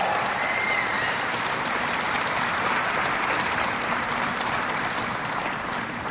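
A large audience at a speech by Obama in Youngstown, Ohio, applauding in a dense, steady wash of clapping that stays loud throughout, with faint crowd voices mixed in.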